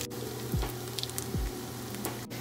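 Golden pork rinds (chicharrones) sizzle in their own rendered fat in a pan, giving a soft, steady crackle with scattered pops and a low hum underneath, at moderate loudness and with no voices.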